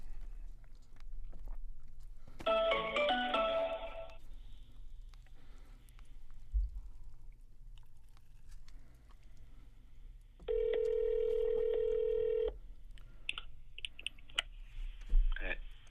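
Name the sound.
telephone call being dialed and connecting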